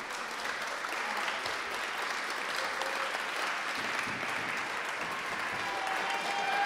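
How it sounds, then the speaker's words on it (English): A sustained round of applause from an audience at a mayor's arts awards ceremony, steady clapping at even volume with faint crowd murmur and a few brief tonal sounds beneath it. "Can we give a big round of applause and say thank you to our friend Peggy?"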